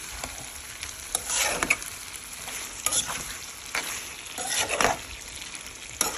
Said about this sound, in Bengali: আমি ভালো করে একদম ভাজা ভাজা করে নিচ্ছি